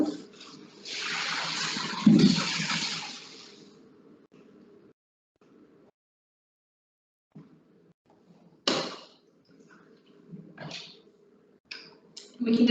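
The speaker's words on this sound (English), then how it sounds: "when I pour this boiling water in" Boiling pasta water gushes from a pot into a colander sitting in a sink, a splashy pour of a few seconds, followed by quiet and a few sharp knocks and clatters.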